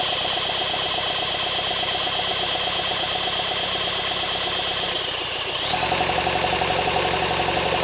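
A seized engine, primed with fluid in the intake and cylinder, is turned over by a drill, giving a steady mechanical whir and hum that jumps to a higher, louder pitch near the end.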